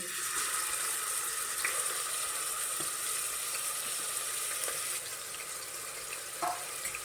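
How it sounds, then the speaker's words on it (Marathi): Finely chopped onions frying in oil in a pressure cooker for bachelor-style mutton, a soft, steady hissing sizzle with a few faint clinks and stirring scrapes, fairly quiet and unbroken, no voices. "कांदा आपण आता भाजून घेऊया"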